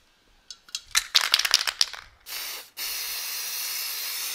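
Spray paint can priming a GoPro case for hydro dipping scooter parts: a series of short hissing spray bursts, then two longer steady sprays, close and loud.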